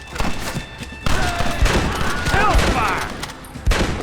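Sustained gunfire in the Western video game Red Dead Redemption: rapid volleys of shots and thuds over a busy battle soundscape, with shouting voices mixed in.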